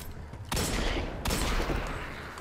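Hand cannon firing in the video game Destiny 2, two heavy booming shots in quick succession, each followed by a rumbling tail, loud and close.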